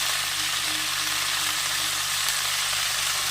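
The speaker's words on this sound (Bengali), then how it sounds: "দিয়ে ভালো করে নেড়ে চেড়ে সবজিটাকে কষিয়ে নিতে হবে" Vegetables with salt and turmeric, part of a prawn, Malabar spinach and pumpkin dish, being stirred and sautéed in a pan, a dense, even hiss of frying that stays steady throughout, close and loud, with no talking.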